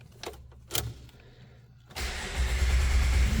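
A 2004 Jeep Wrangler Sport 4x4 with the 4.0-litre inline six and about 159,000 miles gives a few faint clicks, then cranks and catches into a loud, steady, close idle.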